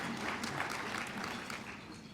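Brief round of clapping from a crowd, fairly soft and evenly sustained, tapering slightly toward the end.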